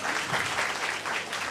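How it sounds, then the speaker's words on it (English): An audience at a business school's 25th anniversary celebration applauds in a short, full burst of clapping that sounds close and continuous throughout. "A big round of applause for all of you,"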